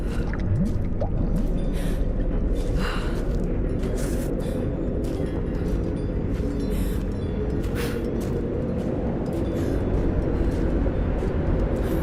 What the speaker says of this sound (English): There's water down below. Sounds like a great volume.